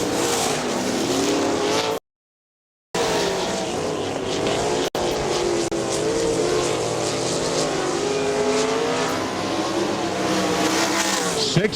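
Great Lakes Outlaw Super Sprints sprint cars racing at Butler Battlegrounds in 2002, loud engines roaring and rising and falling in pitch as cars pass, continuous apart from a short silent gap.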